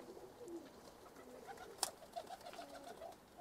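Tip bango pigeons give soft, low coos at a moderate distance, a few murmuring calls strung across the moment with one sharp click partway through.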